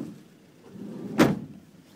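A 2012 Opel Vivaro van door swings shut with one solid, close thud after a quiet lead-in, then fades quickly.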